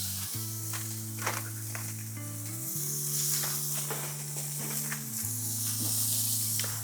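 Smash burger patties sizzle on a hot griddle with a steady hiss and occasional pops, partly under a sustained tonal hum that shifts pitch in steps.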